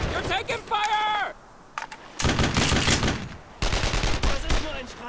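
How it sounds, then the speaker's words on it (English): Sustained automatic gunfire and rifle shots from the Brothers in Arms: Road to Hill 30 video game, set in Carentan, rattling in loud bursts with brief pauses, mixed with shouted voices and game audio. "You're taking fire!"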